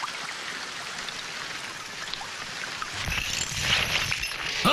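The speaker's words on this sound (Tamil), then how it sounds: "நல்ல மழை பெய்யுதுல, தூங்கட்டுங்க." Heavy rain falls steadily as a continuous hiss of drops on surfaces, growing louder and denser toward the end, with no voices.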